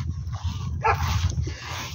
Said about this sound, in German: Knurren sich immer wieder an.